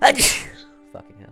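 A single loud, close sneeze bursts out at the start, followed by a brief muttered reaction from a voice.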